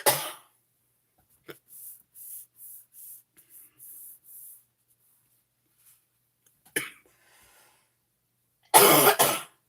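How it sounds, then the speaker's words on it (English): A person coughs several times in short, muffled bursts at a distance in a quiet room, followed by one louder, closer cough near the end; there is no talk. "Everybody's favorite thing to listen to, somebody else coughing."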